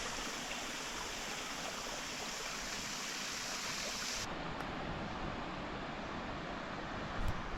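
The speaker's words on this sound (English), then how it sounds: "I think he called this Splash Dam Falls." Splash Dam Falls, a waterfall on the Appalachian Trail, pours in a steady, dense roar that fills the whole clip without a break, loud and close.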